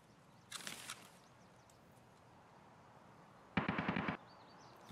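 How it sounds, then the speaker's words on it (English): Two short bursts of rapid gunshots in Escape From Tarkov, close and loud, separated by a few seconds of quiet ambient background, with no talking. "The shots were so close."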